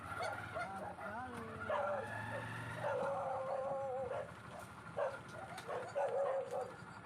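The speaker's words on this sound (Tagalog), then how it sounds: "Tahol lang ng aso at huni ng mga ibon at manok ang maririnig mo dito." A dog barks amid clucking chickens and calling birds in a backyard garden, with honking, warbling fowl calls overlapping in the foreground and a low murmur of activity underneath.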